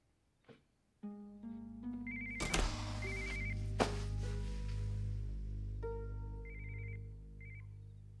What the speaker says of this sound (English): Aren't you gonna answer the phone?